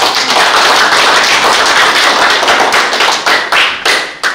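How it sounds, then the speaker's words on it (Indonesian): An audience at a Toraja Church closing ceremony for ministry candidates bursts into dense, steady clapping that thins out into scattered claps at the end. "Tepuk tangan dulu."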